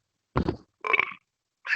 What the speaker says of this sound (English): Let those beer belches fly.